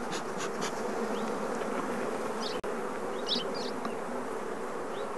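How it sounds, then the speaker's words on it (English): Honeybees droning steadily around an opened Langstroth hive during an inspection, a dense close buzz with individual bees whining past, with one brief dropout midway. "leaning against the back of the hive, taking care not to squash any bees"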